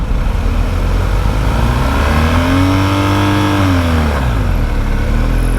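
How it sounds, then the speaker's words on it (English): An engine, given a motorcycle engine, revs hard and climbs in pitch to pull away uphill, then eases back and nearly dips toward a stall. The sound is loud, close and continuous throughout. "you need to give it a lot of revs, otherwise you risk stalling it"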